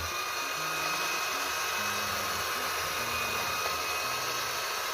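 An electric hand mixer beats butter at low speed for a plum cake batter, giving a steady, continuous motor whir with a wavering hum that holds unbroken for the whole stretch.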